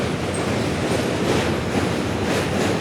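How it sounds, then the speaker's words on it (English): A train passes close by, producing a loud, continuous rumbling roar that stays steady throughout with no pauses. "Stupid train."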